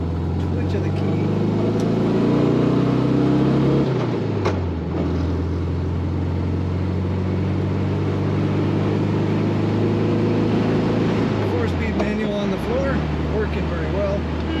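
A 1971 Volkswagen Super Beetle convertible engine running near and steady, its tone rising and falling with two throttle changes, with someone talking over it.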